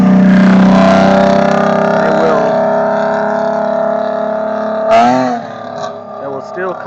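A Lexus IS with a modified exhaust revs loudly nearby, a sustained droning engine tone that falls away, followed by a sharp second blip.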